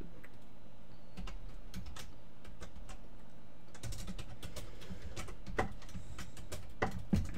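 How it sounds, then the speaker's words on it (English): Typing on a computer keyboard while entering HTML5 markup: faint, scattered keystroke clicks in short irregular bursts, with a few sharper taps, over a low room hum. "I totally screwed up typing in Friday"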